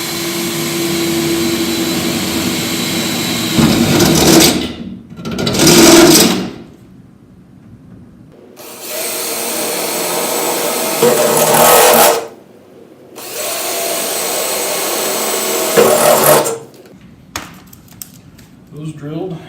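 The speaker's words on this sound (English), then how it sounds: "And we can drill the next 3 holes real quick." A power drill bores holes in a car door panel during interior door handle and armrest work, several loud whirring bursts of a few seconds each separated by quiet pauses, close to the listener.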